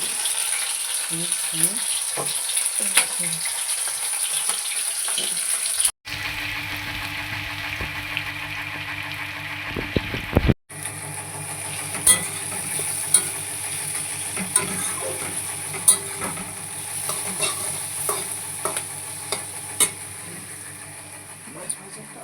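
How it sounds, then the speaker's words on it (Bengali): Marinated meat is stir-fried slowly in a pan, a steady sizzle running through several cut sections with repeated sharp clinks of a spatula on metal and some talk early on. "শুরু করেছিলাম পেঁয়াজ ভাজা দিয়ে আর শেষ করছি মাংস কষানো দিয়ে।"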